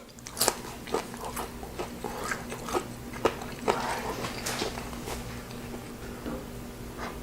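Close, crisp crunching bites and chewing of fried sweetbreads, irregular sharp crackles over a low steady background hum, no talking.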